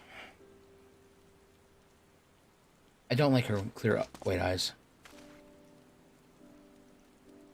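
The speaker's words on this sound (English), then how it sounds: "Oh, it's raining." Rain falls steadily in Final Fantasy XIV: Heavensward, a soft continuous patter under game music, briefly covered by a burst of spoken dialogue in the middle.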